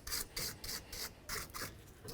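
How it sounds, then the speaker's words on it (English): A brush or rag scrubs rhythmically inside the axle splines of a 2007–12 Nissan Sentra during a wheel bearing job, giving repeated close back-and-forth rasping strokes at a steady pace with no talk. "Try to clean out anything that might be inside these splines here."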